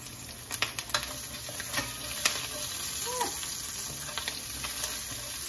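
Garlic sizzles in a hot pan over lowered heat, left with browned bits from chicken cooked for an open-faced cordon bleu; a steady, close frying hiss runs throughout, with a few soft clicks of stirring.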